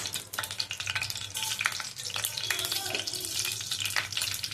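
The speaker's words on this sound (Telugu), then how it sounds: "ఇప్పుడు మనం ఇందులో ఆవాలు జీలకర్ర వేసుకుందాం." Mustard seeds and cumin sizzle and crackle in hot oil, a busy, close popping hiss that runs throughout.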